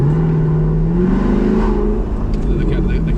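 A car engine hums steadily at close range, its low drone rising slightly in pitch as it accelerates, with a person talking over it.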